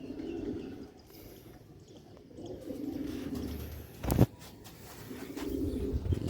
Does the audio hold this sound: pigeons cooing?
yes